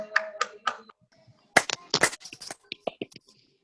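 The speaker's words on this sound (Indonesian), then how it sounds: "bisa tepuk tangan dulu untuk diri kalian masing-masing" Students in a classroom clap for themselves, a few scattered claps at first, then a louder burst of clapping with hand taps that thins out into sparse claps, fairly close.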